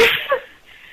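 A single sharp human sneeze bursts out close and loud, then trails off into quiet within a second.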